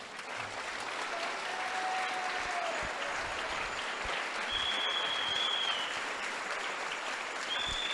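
Church congregation clapping as an offering of praise to Jesus, sustained dense applause from a large crowd filling the room at steady loudness, with a few faint whistles over it.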